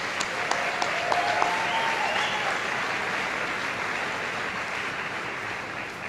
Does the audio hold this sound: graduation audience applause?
yes